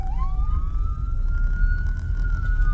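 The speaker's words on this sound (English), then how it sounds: "we got these ambulances coming through" Ambulance sirens pass by, one steady wailing tone gliding upward and holding over a low rumble of traffic, fairly close and continuous without any talking.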